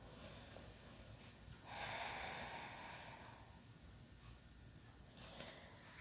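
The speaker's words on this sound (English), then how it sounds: "Deep breath." A single deep breath taken during a gentle yoga session, a soft airy inhale swelling for about a second and easing away, faint and close in a quiet room.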